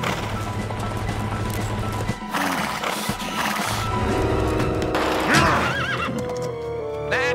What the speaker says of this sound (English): now we get attacked by a crazy horse